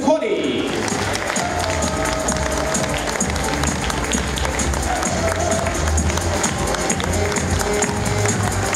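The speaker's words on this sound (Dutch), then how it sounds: "Een fantastisch applaus voor de winnaar van rasgroep 1" Applause and crowd noise at a dog show's Best in Show ring as a Bearded Collie group winner is announced, a busy hall where clapping blends with chatter, movement and a steady low rumble.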